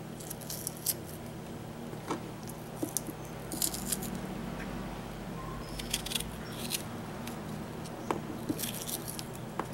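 Peppers being cut on a board in a home kitchen, a soft, irregular series of faint knife clicks and crunches over steady background hum, with no voices.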